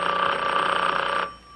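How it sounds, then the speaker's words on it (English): A telephone bell rings in a sitcom scene, one loud continuous electric trill lasting over a second before cutting off, with no talk over it. "I think you better answer that, Lick Dowden."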